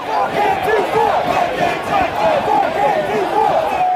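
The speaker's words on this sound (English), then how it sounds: "while the crowd chanted" A crowd of protesters chants in rhythm, loud massed voices rising and falling in repeated shouted phrases that fill the space close by.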